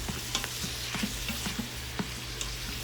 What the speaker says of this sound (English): the most work we're going to do is browning your meat